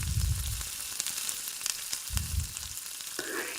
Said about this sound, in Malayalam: ഈ മസാലയുടെ പച്ചമണം ഒക്കെ മാറുന്നത് വരെ ഒന്ന് വഴറ്റി കൊടുക്കാം